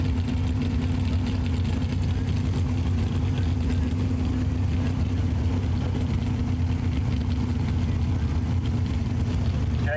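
A modified pulling tractor, once known as Charlie's Angels, runs with a loud, steady low engine rumble and a constant drone at an FFA truck pull in Hillsboro, Ohio, close and continuous with faint crowd noise underneath.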